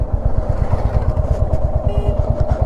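A motorbike ridden on the road from Kolkata toward the Sundarbans, its engine throbbing in a loud, steady, close pulse, with wind noise and a faint voice over it.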